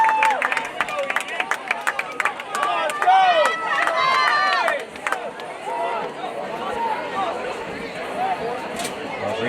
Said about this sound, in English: The crowd gets into it.